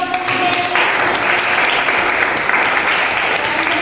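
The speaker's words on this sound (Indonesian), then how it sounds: "Beri tepuk tangan dulu dong." Steady applause from a classroom audience at a teaching practice session, a dense continuous wash of clapping that stays even and fairly loud throughout, with faint voices mixed in.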